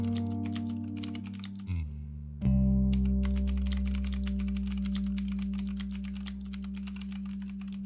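Rapid typing on a computer keyboard, with dense clicking keystrokes over steady low tonal background music, a brief dropout in the middle before the keys resume continuously.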